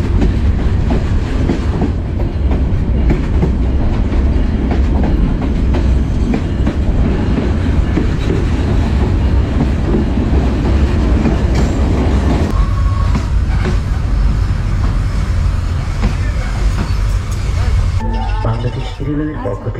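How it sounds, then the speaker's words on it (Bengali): Kurigram Express train at Joypurhat station in Bangladesh, a loud continuous rumble of carriages with clattering rail noise that shifts near the end as it gets under way, with voices talking over it. "এরপরেই আমাদের ট্রেন ছেড়ে দেবে।"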